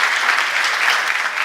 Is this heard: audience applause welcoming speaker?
yes